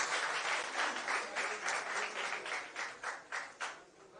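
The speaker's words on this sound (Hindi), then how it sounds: "एक बार उनकी जोरदार ताली बजाइए उनके लिए" An audience at a political gathering in Rajasthan claps together, a dense steady applause that thins toward the end into separate rhythmic claps, heard from a distance.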